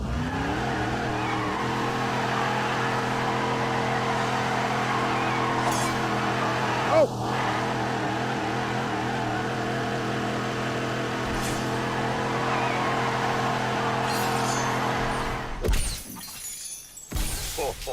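A supercharged 2.7 litre car engine drones loud and close during donuts in a multi-storey car park inside an old Detroit theatre, a sustained harmonic engine roar with tyre squeal, a sharp bang midway and a shout near the end.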